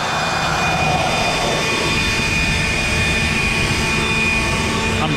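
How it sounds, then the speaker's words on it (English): A DeWalt blower runs continuously at close range in a workshop while silica dust is being cut, producing a loud, steady roaring rush with no break and no audible talk over it. "I got a DeWalt blower right here."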